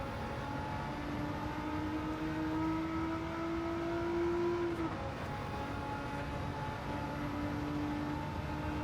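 Nissan Fairlady 300ZX race car with a GT-R engine swap accelerating in Gran Turismo 7, a steady engine drone rising in pitch through gears, moderately loud and continuous without speech.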